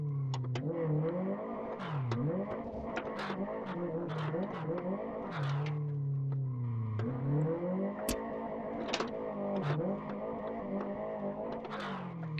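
A Tofaş car in a video game mod drifts, its engine droning and revving continuously up and down in pitch, with a few sharp ticks and bursts over the steady roar, close and loud throughout.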